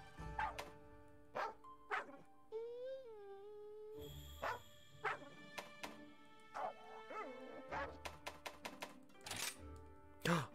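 A dog companion in the video game Monster Hunter Rise barks in a string of short, clear yaps with a few whimpering whines in between, alongside game tones and effects.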